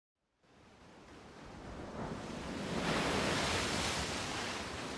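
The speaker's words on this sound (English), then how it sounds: "The sound of crashing waves, the sound of the tide surging, the noise of the sea breeze." Crashing ocean waves and a steady sea breeze from the Umineko When They Cry visual novel, a broad continuous surf roar that swells in loudness partway through and holds, with no voices.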